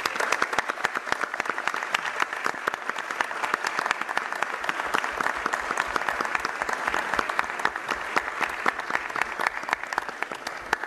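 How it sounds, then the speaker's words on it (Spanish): Strong, sustained audience applause at the launch event of the 78th Expo Rural San Justo, a dense, steady roar of many hands clapping for over ten seconds with no break. "a quien les pedimos también un fuerte aplauso."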